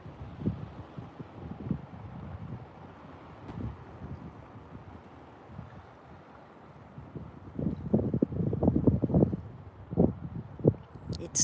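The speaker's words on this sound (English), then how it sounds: "It's windy, it's cold." Steady wind blusters outdoors by a river, cold, a low rumbling roar that swells into stronger gusts buffeting the microphone near the end.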